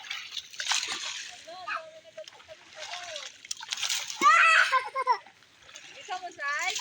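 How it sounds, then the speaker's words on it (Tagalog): Water splashes and sloshes in short bursts while a fish trap is rinsed, irregular wet spatters near the listener, with voices and children talking throughout. "Agusan siya ng tubig."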